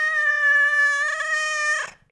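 A voice imitates a cat, first with a long, steady, high, tonal yowl and then a short breathy hiss at the end, loud and close, with no other sound under it.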